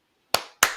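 Two crisp, close hand claps sound alone against silence, each a sharp slap with a short ring, spaced about a third of a second apart, keeping time with a song.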